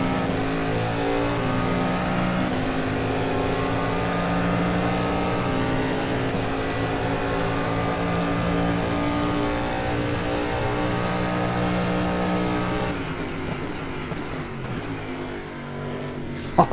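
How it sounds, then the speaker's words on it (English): DPI prototype race cars roar down the back straight of Buddh International Circuit in a 12-hour racing game event, a loud sustained engine drone with shifting pitch that fades near the end, no talking. "I'm going to shut up for a minute just so you can hear these wonderful DPI cars down the back straight"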